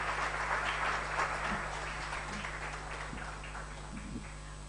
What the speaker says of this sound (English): Can we have a huge round of applause for Hafsa and her brother Ahmed?